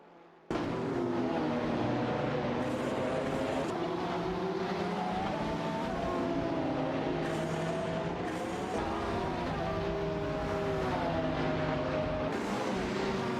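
Lamborghini Huracan Performante and Lamborghini SC18 race cars in a racing video game, engines roaring loudly and continuously with shifting revs, several cars running close together without a break.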